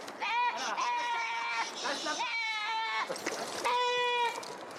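Goats bleat repeatedly, near and loud, in drawn-out wavering cries on a mountain approach during a big wall climbing trip in Pakistan, with people talking underneath.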